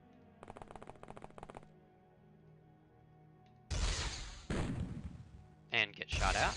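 Gunfire in the video game OpenXcom with a Warhammer 40k mod: a rapid rattle of light clicks, then several loud, harsh bursts of shots and impacts separated by brief pauses.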